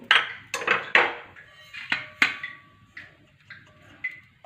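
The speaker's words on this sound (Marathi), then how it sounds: "आता आपण हे खोबरं एका ताटामध्ये काढून घेऊ" Roasted dried coconut is scraped and tipped from a pan onto a plate, with a scatter of sharp metallic clinks and taps from a utensil against the metal, some close and loud, spaced irregularly over a few seconds.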